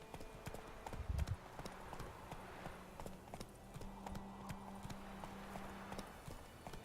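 Roach, the horse in The Witcher 3, gallops in a quiet, rhythmic clip-clop of hoofbeats that runs steadily throughout at moderate distance.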